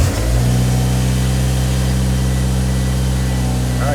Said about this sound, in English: Here we go, car started in neutral.